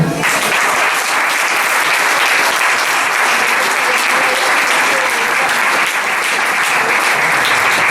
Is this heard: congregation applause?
yes